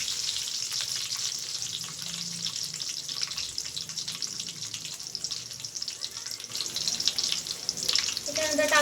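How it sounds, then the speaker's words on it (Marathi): Garlic sizzles in hot oil with cumin as it is stirred, a constant close hissing crackle with scraping of the spoon, briefly louder and more bubbly near the end. "आता घ्यायचं आपल्याला त्याच्यात लसूण। हलवून घ्यायचं चांगलं।"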